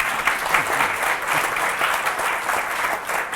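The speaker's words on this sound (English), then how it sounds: "that definitely deserves a round of applause" A political party conference audience applauds a panel, the clapping broad, loud and continuous, a thick crowd wash that holds at a steady level throughout.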